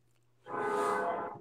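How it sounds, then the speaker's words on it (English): A train horn sounds once in a sustained, steady blare from a distance, rising suddenly after a quiet moment. "I hear the train in the background, Murph."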